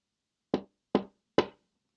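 Three evenly spaced knocks on a door, sharp and clear, with brief silence between them and nothing else heard.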